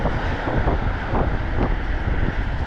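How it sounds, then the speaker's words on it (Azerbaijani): Steady, loud wind buffeting a microphone while riding an e-bike on a spring day, a continuous low rumbling roar that fills the whole clip with no speech. "İstər-istəməz külək mane olur."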